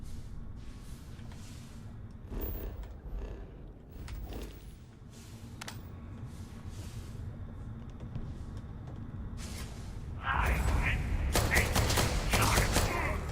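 Pistol gunfire in the sci-fi shooter Starfield, with a handful of sharp shots fired over steady game ambience, growing denser and louder toward the end.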